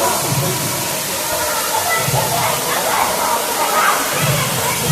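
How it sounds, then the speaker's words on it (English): The waterfall at Kapila Tirtham in Tirupati gives a steady, loud rushing hiss of falling water that fills the scene, with a voice speaking faintly beneath it. "waterfall"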